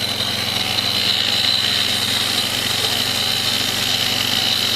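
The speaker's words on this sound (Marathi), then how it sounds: "जोडची ग्राइंडर मशीनच्या सहाय्याने साफसफाई चालू आहे." A grinder machine works a welded railway rail joint with a loud, steady motor whine and a continuous abrasive buzz, close up and unbroken, with no talking.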